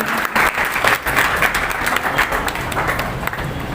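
An audience at a school investiture ceremony applauds a commerce stream first rank holder, with steady, dense clapping from a crowd that stays loud and even throughout.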